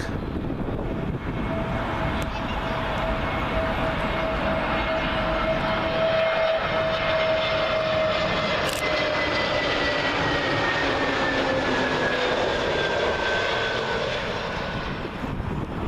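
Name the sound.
Aer Lingus Airbus A320neo jet landing at Heathrow 27L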